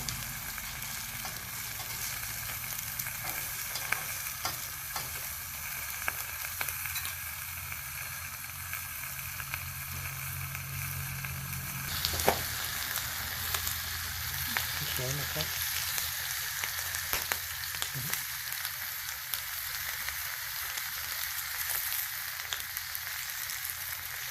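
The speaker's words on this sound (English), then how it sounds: "Look at that sizzle." Steady, loud sizzling of breakfast food frying in a Lodge cast-iron biscuit pan on a Camp Chef Explorer stove, continuous crackle and hiss throughout with a few sharper pops.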